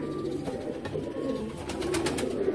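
A flying pigeon coos softly in low, rolling murmurs close by, repeated several times against a quiet background.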